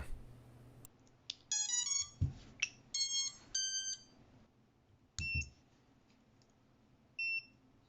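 A Vifly Finder 2 drone finder gives a series of short, high tonal beeps and chirps in quick sequence as it is switched off, with a few isolated beeps afterward in a quiet room.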